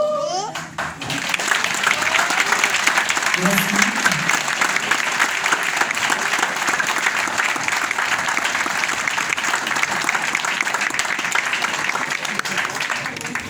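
Church congregation applauding after a call to clap in a Holiness tabernacle service: a dense, steady wash of many hands clapping that starts abruptly and holds for over ten seconds, with faint voices and chatter mixed under it.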